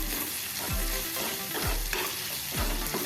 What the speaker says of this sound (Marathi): आता हे चांगलं मिक्स करून घेऊया